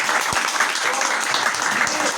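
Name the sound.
audience applause for a guest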